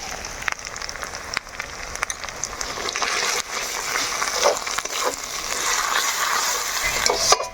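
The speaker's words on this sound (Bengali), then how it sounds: "আমরা কিন্তু খুব সুন্দরভাবে মশলা এখন কষিয়ে নিয়ে" Spices fry in a pan while being stirred, giving a steady, fairly loud crackling sizzle throughout with occasional scraping strokes and no talking.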